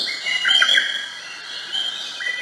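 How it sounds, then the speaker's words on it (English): Birdsong played back by a portable nursery white noise machine, a steady run of high chirps and tweets over a soft hiss, with a brighter burst of calls near the start and another toward the end. "Nice bird sounds."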